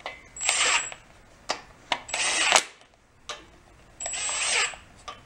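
A power tool runs down head bolts on a blown-up VW Bus engine in short bursts, three main whirring runs with clicks between, close and fairly quiet with no talk.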